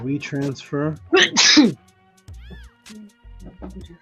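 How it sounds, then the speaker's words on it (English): A single short sneeze bursts out in a classroom-style online lesson, preceded by a brief spoken phrase and followed by faint scattered noises. "heard somebody sneeze."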